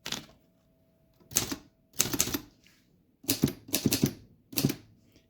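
Typing on a vintage manual typewriter from the 1940s, such as a Voss ST24, Hermes 2000 or Torpedo 18, heard as close, crisp key strikes in short irregular bursts separated by pauses.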